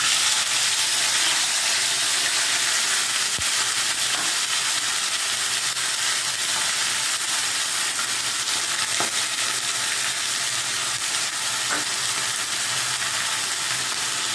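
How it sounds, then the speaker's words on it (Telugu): Cabbage frying in a pan for a chana dal and coconut curry gives a steady, dense sizzle and hiss that runs throughout, with occasional faint stirring sounds and no talking. "ఈ క్యాబేజ్ వేస్తున్నాను."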